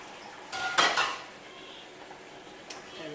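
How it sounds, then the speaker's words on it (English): Carrot, celery and whole pimento spice tumble into a cooking pot for a Jamaican coconut curry chicken and shrimp gumbo, giving a short cluster of clattering pot-and-utensil knocks near the start and one more clink later, with no talk. "I'm gonna add the carrot, celery, and the whole pimento spice."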